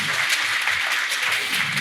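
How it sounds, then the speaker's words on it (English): An audience at a conference talk applauds, a steady wash of many hands clapping at moderate volume, heard alone without speech. "You can applaud."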